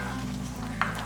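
Sautéed onions and dried red chillies added to a pan of greens and lentil kootu, giving a soft, steady sizzle with a brief stirring clink near the end and no voices.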